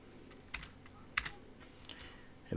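Keys on a computer keyboard clack in short, scattered bursts as shortcut combinations are typed, a few crisp close taps with brief pauses between, fairly quiet and with no voice.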